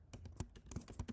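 Rapid typing on a computer keyboard, a close, steady patter of individual key clicks at a quick, slightly uneven rhythm, heard alone without talk.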